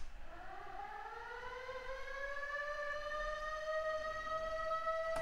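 A lone siren sound effect in a Halloween music track winds up, its rising wail climbing slowly and then holding a steady high tone, fairly faint and clean.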